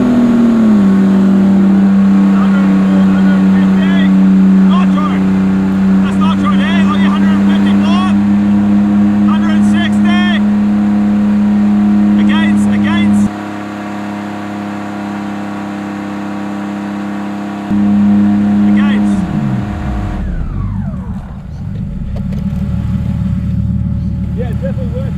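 A Ford AU Falcon running methanol nitro injection roars hard through first, second and third gear, its loud engine note climbing and dropping at each shift, with wind and cabin noise and excited voices inside the car.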